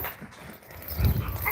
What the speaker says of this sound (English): All these dogs, come here.